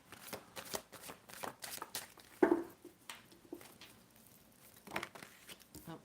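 Tarot cards being shuffled by hand to draw a single card: repeated quick riffling and papery slapping bursts in an uneven rhythm, close and moderately quiet, with no talking.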